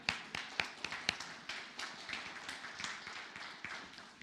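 A church congregation applauds a newly introduced staff member, with sparse, irregular claps from a modest crowd, moderately near and steady for a few seconds, with no talk over it.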